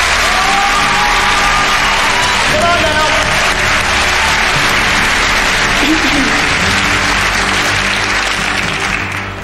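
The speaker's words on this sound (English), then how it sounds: "Give her a round of applause." Loud studio audience applause on a TV game show, with cheering and whoops over sustained clapping and voices talking underneath, steady throughout and fading slightly at the end.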